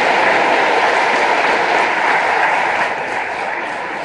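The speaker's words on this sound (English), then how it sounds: "that's worth a round of applause" A large commencement audience gives a sustained, loud round of applause, a dense wash of clapping that eases slightly toward the end.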